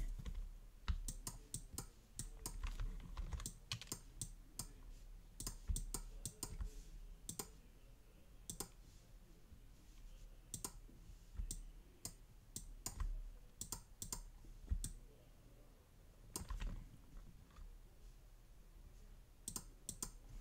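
Computer keyboard keys and mouse buttons clicked while copying and pasting, a dense run of sharp, close clicks and taps in uneven bursts with brief pauses, alone and fairly quiet.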